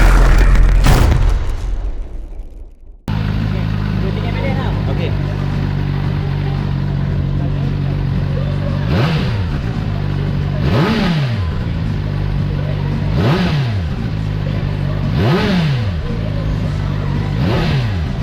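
A CFMoto 750 SR-S four-cylinder double overhead cam motorcycle engine, loud and close: a sharp burst and brief quiet, then steady idle broken by a series of quick, evenly spaced throttle blips.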